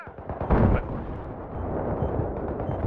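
Mortar fire in a war video game, a loud booming blast with a deep rumbling tail, followed by continued low rumble of battle.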